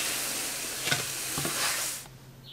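Vegan lentil-corn flatbreads fry in a pan with a steady, close sizzle and a few short scraping or stirring touches, before the sizzle drops away near the end.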